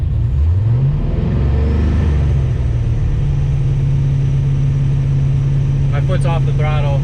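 An LS-swapped Nissan 240SX engine idles steadily at a raised speed with a constant low rumble, its revs settling after a brief change early on, while a person talks over it.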